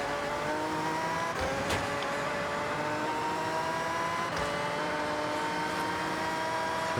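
Race cars in Forza Horizon roar past with continuous engine drone and rising revs, a sharp transient around the middle, steady and loud with no talk.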